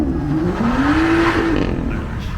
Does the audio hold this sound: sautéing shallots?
no